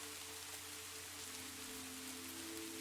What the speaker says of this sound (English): you become aware of the rain's power